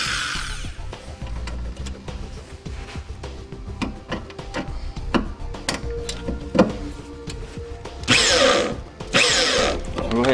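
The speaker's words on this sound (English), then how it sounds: "try to drill our ground point through these two layers of metal right here" A power drill bores through two layers of vehicle body metal. It comes as short, loud whirring bursts and grinding near the end, mixed with clicks and handling noises close by.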